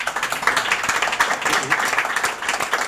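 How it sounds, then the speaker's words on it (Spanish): Audience applause at a conference panel closing, with clapping rising in uneven bursts and a speaking voice partly mixed in underneath. "creo que se merecen un gran aplauso."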